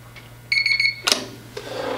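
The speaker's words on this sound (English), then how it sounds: "That means that if the door isn't properly shut, you're going to hear that alarm." Electronic door lock sounding its latch bolt alarm, a set of four or five quick high-pitched beeps followed by a short clack, loud and close in a quiet room with a steady low hum underneath.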